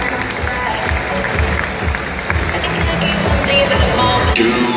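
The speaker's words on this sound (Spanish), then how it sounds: "los aplausos" Spectators at a fashion show on an expo fair runway clap in a steady, broad patter. Low thumping beats from show music pulse underneath at a moderate, even level.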